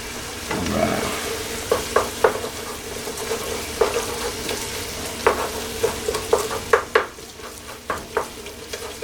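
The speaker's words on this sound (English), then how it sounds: "Just gonna stir everything together" A spoon stirs a pan of sizzling vodka-pasta sauce with onions, sausage and paste, giving close, repeated scraping knocks over a steady frying hiss.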